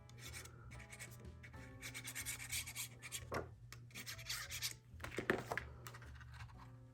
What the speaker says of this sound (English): you're going to score it 1/2 inch and fold and burnish